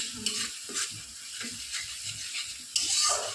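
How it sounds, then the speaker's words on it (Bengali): White mustard paste being fried in a pan, giving a soft sizzle with intermittent stirring scrapes and a brief louder burst of hiss near the end. "সর্ষেটাকেও একটু কষিয়ে নেবো।"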